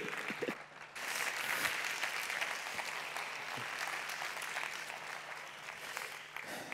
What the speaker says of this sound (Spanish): Un aplauso para Ramón Besonías.